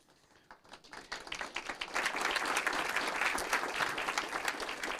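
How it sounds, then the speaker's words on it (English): City council meeting crowd applauds a military member of the quarter, clapping starting softly and swelling within two seconds into a full, sustained round heard from a moderate distance. "Please give him an applause."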